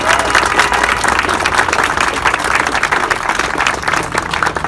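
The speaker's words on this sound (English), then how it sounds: "Let's give Jerry a big, big round of applause." A crowd applauds at an outdoor street co-naming ceremony, with sustained dense clapping throughout, loud and close, and faint voices mixed in.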